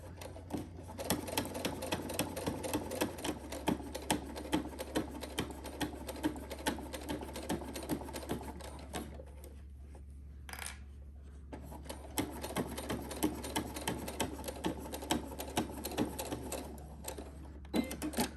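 A sewing machine stitches straight across the seam of a fabric zipper pouch, running in a steady, close whirring rhythm with a constant low motor hum, and a brief pause midway before the stitching resumes.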